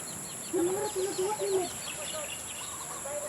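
A flock of birds living in coconut trees on a property in the Philippines calls out in a quick series of faint chirps and squawks over a soft, steady background hiss.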